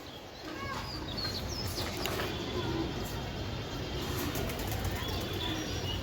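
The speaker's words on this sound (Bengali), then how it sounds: "এই একটা বিশ্বস্ত কবুতর" Giribaz flying pigeons, a breeding pair with eggs, coo at close range while wings flap in bursts against steady loft background noise.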